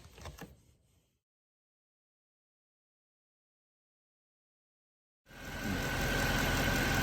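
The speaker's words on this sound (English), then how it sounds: "the engine is on, we are all back together" A car engine runs after a valve cover gasket replacement, starting as a steady, loud, close mechanical drone after a long stretch of silence that follows a brief clatter.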